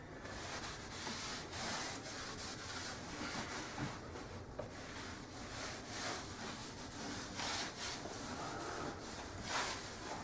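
A rag rubs gel stain off wooden kitchen cabinets with a steady, continuous scrubbing rasp, fairly quiet and close, with no talking.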